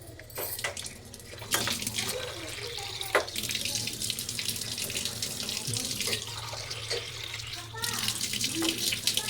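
Water runs steadily from a tap into a vessel at close range, a continuous splashing flow with faint clinks of dishes and a voice speaking over it.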